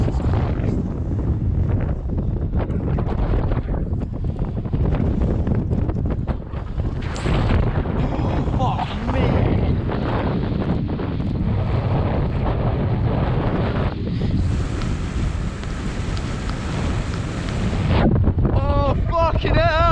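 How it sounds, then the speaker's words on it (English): Strong wind of about 31 mph buffeting the microphone outdoors, a constant loud rumbling roar with gusting swells across the whole stretch, and brief voice at the end. "That's the wind."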